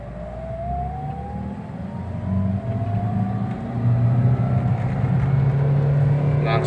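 A 2007 Toyota Avanza engine revs steadily as the car pulls hard in second gear, its whine climbing gradually, with road rumble and passing traffic building louder by the end.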